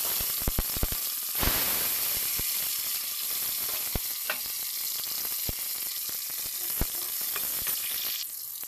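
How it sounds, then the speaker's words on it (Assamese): Onions drop into hot oil in a village kitchen and sizzle steadily, a loud continuous frying hiss broken by sharp spattering pops and a few clinks of a utensil. "এইপিনে তেল গৰম হৈ গ'ল তাৰপাছত মই ইয়াতে দি আছোঁ পিঁয়াজখিনি"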